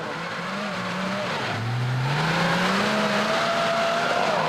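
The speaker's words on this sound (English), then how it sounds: "excellent bit of driving coming up this hill pretty nicely" A Suzuki 4x4 with no lockers climbs a hill at an off-road winch challenge in New Zealand, its engine revving and rising in pitch as it strains up the slope, loud and steady, with no talk.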